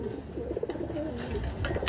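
Racing pigeons land at the home loft at the end of a 278 km derby race, with soft close cooing and light rustling and fluttering nearby.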